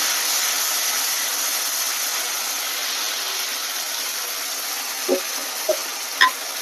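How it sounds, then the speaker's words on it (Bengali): Ground spice paste dropping into hot oil for a pointed gourd curry, giving a steady broad sizzle with a few short clicks and stirs near the end, no voices. "এখানে সব বাটা মশলাগুলো আমি তেলের মধ্যে ছেড়ে দিলাম"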